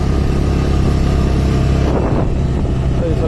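Motorcycle ridden on a road near Manas National Park, a loud steady engine drone with wind rush throughout, while someone talks over it.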